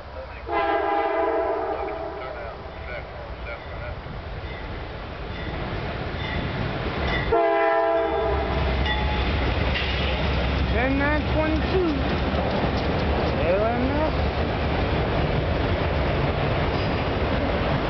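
CSX freight train with YN2 paint rolling past close by, a loud sustained rumble of rail cars under a long, blaring two-tone horn sounding repeatedly throughout.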